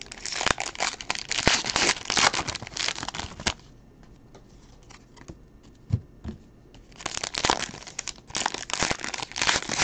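Trading card packs being ripped open during a live pack-break stream: close, loud crinkling and tearing of foil wrappers in two bursts separated by a quieter stretch with a few faint knocks.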